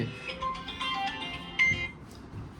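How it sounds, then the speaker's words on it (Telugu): A phone ringtone plays a short melodic tune for about two seconds at moderate volume indoors, then fades out. "ఒక్క నిమిషం ఫోన్ వస్తుంది"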